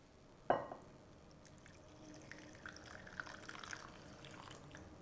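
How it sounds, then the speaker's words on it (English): Hot water poured into a well of flour for pici pasta dough, with a brief sharp splash at the start followed by a soft, faint trickling pour and light dribbles close by. "I'm gonna add our water."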